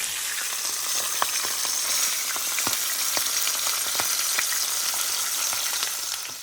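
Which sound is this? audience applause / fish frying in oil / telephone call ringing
fish frying in oil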